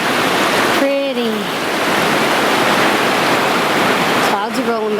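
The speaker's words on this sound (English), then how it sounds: "we just wanted to see the rapids because it's so pretty" Mountain river rapids in Grand Teton National Park roar as a loud, steady broadband rush throughout, with brief speech-like tones heard faintly over the water near the start and end.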